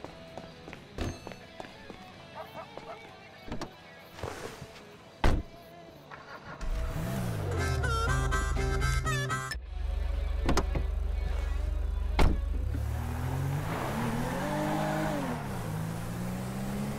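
Car in the video game GTA V, starting with a few scattered thumps and clicks, then a loud engine revving up and holding a steady drone, rising and falling in pitch as it accelerates away, mixed with game sound effects.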